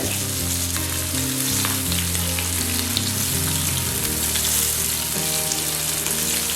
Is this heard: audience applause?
no